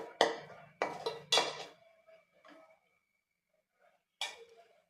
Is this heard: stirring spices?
yes